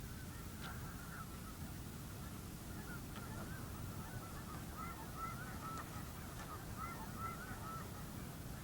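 Wild geese honk in a steady, overlapping chorus, the calls repeating throughout over a constant low rumble of wind or ambient noise, moderately distant and without any talk.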